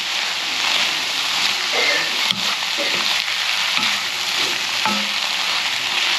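Chicken and tofu sizzle loudly and continuously in a pan, with occasional scrapes and knocks of a utensil stirring them, close up and without talking.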